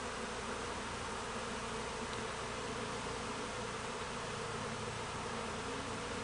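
Honeybees swarming around a hive, a dense continuous buzzing drone of many insects at close range, steady and loud throughout with no voices.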